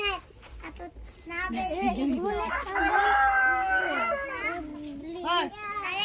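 A rooster crows nearby amid children's chatter and a person talking, the drawn-out call rising over the voices.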